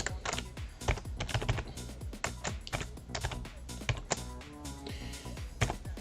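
Rapid typing on a computer keyboard, close and fairly quiet, with a steady stream of sharp key clicks and occasional heavier taps, no voices.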